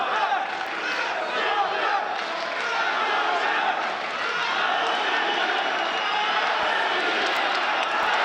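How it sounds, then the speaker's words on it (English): A large arena crowd at the 2017 Kharlampiev Memorial World Cup chants in support of a Russian wrestler, a steady, full roar of many voices that holds without a break from start to finish. "Crowd is chanting again in support of the Russian."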